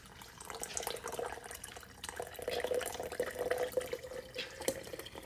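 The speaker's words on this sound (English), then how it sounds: "So I'm going to press it down and I'm just going to pour it into the jar." Homemade coconut chai tea is poured from a press into a jar, making a steady close liquid gurgle and trickle that rises and falls over several seconds.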